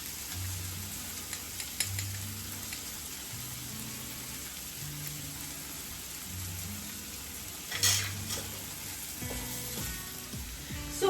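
Tomatoes with salt cooking in oil in a pan for piri piri momo chutney, a steady soft sizzle and frying crackle with occasional stirring clinks, close and fairly quiet, no talk.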